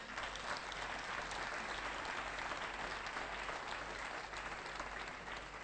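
A church congregation applauding and praising the Lord during a morning service, a sustained, even wash of clapping from many hands.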